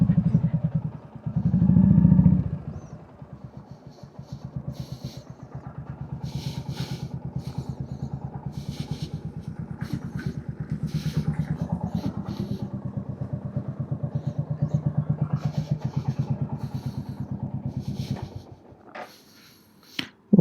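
Royal Enfield Hunter 350 motorcycle with clip-on handlebars, cafe racer style, idling steadily at close range in a downtown Buenos Aires parking spot, a low even engine rumble under brief talk, with clicks and clatter on top before it cuts off near the end.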